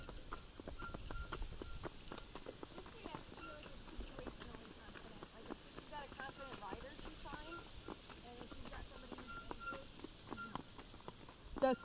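Horse hooves clip-clop faintly and continuously on a trail drive, an irregular walking rhythm at a distance, with people chatting over it.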